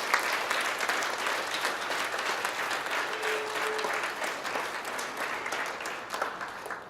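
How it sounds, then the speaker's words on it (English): Sustained audience applause fills a hall after the introduction at an MFA Lectores reading series event, steady and dense clapping from a seated crowd with no talk over it. "Another round of applause for Sonya."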